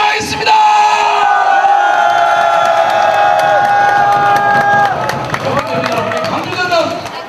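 A large crowd at an evening candlelight rally on Geumnam-ro in Gwangju, protesting election interference, lets out a loud, sustained roar of cheering and shouting voices, swelling for several seconds before breaking into scattered yells and claps.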